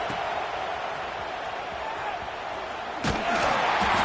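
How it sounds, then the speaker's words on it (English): A stadium crowd at a college football game against Nebraska roars steadily, a broad loud wash of noise that swells further near the end, with a commentator's voice over it. "Listen to this crowd just shaking the girders of this place"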